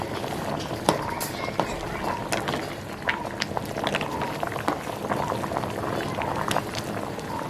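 Water bubbles and boils steadily in a covered pot at a constant simmering level, with a busy, crackling texture throughout.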